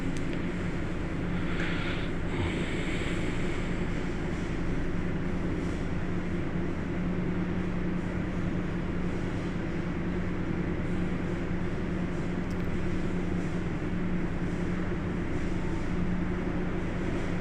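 A 150 kVA Baudouin diesel generator engine running steadily, a loud continuous low rumble and drone with no pauses, heard up close and alone.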